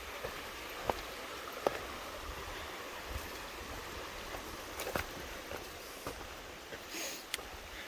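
Creek water flowing steadily at a campsite in South Mountain State Park, North Carolina, a soft continuous wash of running stream with a few faint clicks and knocks, quiet and without voices.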